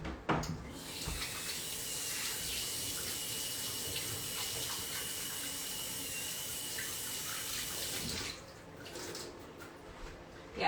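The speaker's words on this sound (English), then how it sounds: "so now I'm gonna wash my hands" Hands are washed under a running kitchen tap, a steady close splashing rush of water that lasts about eight seconds before easing off, then resumes briefly.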